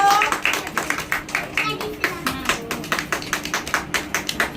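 A group of young children seated in a circle clap their hands in a quick, steady rhythm, loud and close, with voices mixed in.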